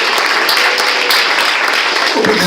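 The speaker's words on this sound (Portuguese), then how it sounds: "Dá uma salva de palmas para ele." A church congregation bursts into loud, dense applause, a steady wash of many hands clapping close by for a couple of seconds, with no voices on top.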